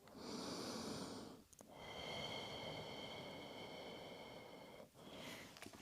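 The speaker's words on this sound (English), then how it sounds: "One more breath." Slow, deep breaths during a Pilates stretch, two long soft exhalations with a pause between, close and quiet, with no talking.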